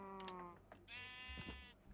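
Sheep bleat in a video game: two loud, close, drawn-out bleats, one at the start and a longer one near the middle, over a steady low background rumble.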